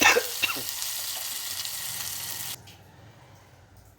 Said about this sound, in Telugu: వాటర్ అనేది యాడ్ చేసుకోవాలి.